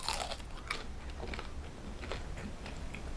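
A crunchy, buttery pita snack is bitten and chewed up close, giving soft, irregular crunches and crackles with no talking.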